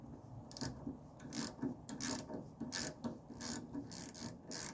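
A wrench tightens an M6 lock nut under a 1984 Mercedes 300TD, making repeated close ratcheting and scraping strokes in a regular rhythm at a fairly low level.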